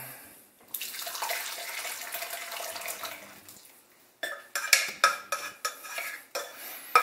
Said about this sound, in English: I'm going to pour our mixture right into there, and I'm going to separate out the plant material.